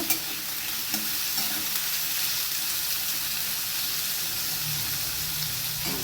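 Sliced onions are stirred and fried with potatoes in a pan for a cauliflower-stem poppy-seed dish, giving a steady broadband sizzle with scraping stir strokes throughout, fairly close and continuous, with no talking.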